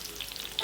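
Chopped onions dropping into hot oil, making a brief close hiss with a few crackling spits that rise sharply near the end of the short burst.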